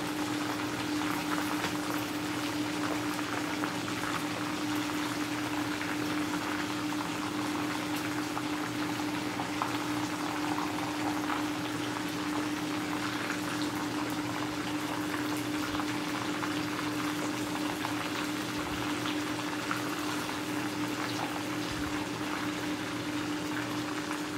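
Pieces of fried chicken in hot oil in a pan, the coating already dried and turned over, bubbling with a steady, dense crackle throughout, close and fairly loud, with no talk over it.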